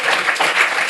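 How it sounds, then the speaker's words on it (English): Brief burst of audience applause welcoming panel speakers to a parenting debate, a dense, close wash of clapping from a seated crowd with no voices over it. "So just a quick round of applause for our speakers to welcome them in"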